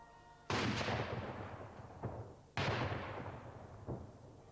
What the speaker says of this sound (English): London echoed to the 41-gun salute.